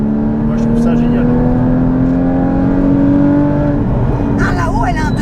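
From inside a Porsche Cayman GT4, the engine revs high toward 6,000 to 7,000 rpm, a loud, close mechanical whine whose tone climbs steadily, with voices talking over it near the end.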